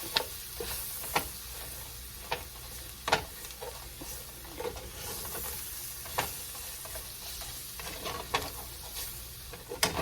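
Flour cooks in leftover skillet grease for Salisbury steak gravy, giving a steady close sizzle broken by irregular scraping and tapping as it is stirred.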